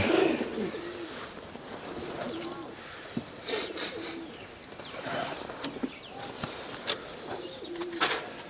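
Giribaj and local pigeons at a pigeon keeper's home loft, cooing in repeated low, throaty phrases close by, with occasional wing flaps and some soft chirps mixed in.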